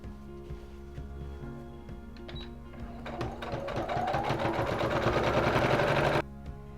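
A sewing machine stitches pajama fabric, starting with slow, uneven clicks that speed up into a steady, dense mechanical whir before stopping abruptly.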